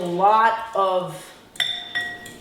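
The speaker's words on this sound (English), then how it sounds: "Next, I'm gonna mix it together with this spoon" A spoon clinks against a dish while oily burger ingredients are mixed. A voice speaks at the start, then a few sharp, separate metallic taps ring out in the quiet that follows.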